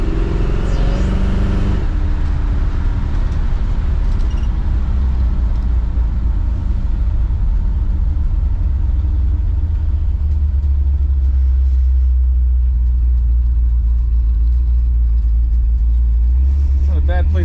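A 1957 car engine, freshly tuned with new plugs and points, rumbles steadily while cruising, a loud continuous low drone with road noise that eases slightly after the first couple of seconds.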